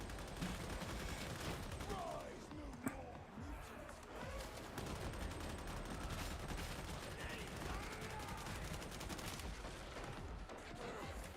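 Gunfire rattles in the video game Warhammer 40K Darktide as enemies are shot at, with dense bursts of shots mixed with combat noise and someone talking over the action.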